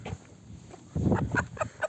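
Chickens and turkeys in a coop cluck and call while eating feed, with soft short clucks and a few brighter chirps close by over low scuffling.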